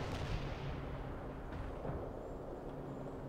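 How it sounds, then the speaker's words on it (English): Artillery strike called in during a World in Conflict battle, a dense, continuous rumble of booming detonations that stays loud and steady throughout, with no voices. "Painting the mark. Fire when ready."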